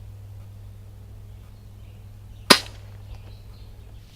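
A single gunshot cracks out sharply and close by, cutting through a low steady hum before fading quickly into quiet.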